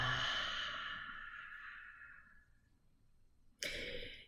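A forceful, breathy qigong exhale on a drawn-out "ha" for heart health, loud at first and fading over about two and a half seconds into near quiet, followed by a sharp, fresh burst of breath near the end.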